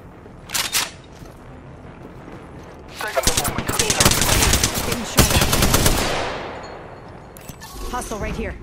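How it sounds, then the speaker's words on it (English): Rapid automatic gunfire in an Apex Legends match, a short burst of shots followed by a long sustained volley loud and close, with sharp impacts and game effects scattered around it. "I am taking fire, friends."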